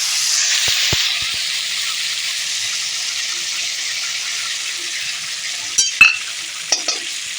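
Ground pepper and whole cumin paste hits hot tempering oil, giving a loud, steady sizzle and hiss throughout, with a few sharp utensil knocks and scrapes near the end.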